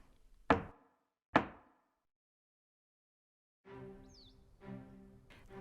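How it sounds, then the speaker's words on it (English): Two sharp, loud knocks on an office door, well spaced and ringing briefly, followed after a silence by a steadier, fainter tonal passage. "Someone knocked on the office door."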